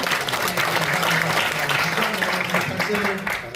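Steady, dense applause from a seated audience in a small National Assembly meeting room, thanking presenters and panelists after a forum, continuous clapping that thins slightly at the very end.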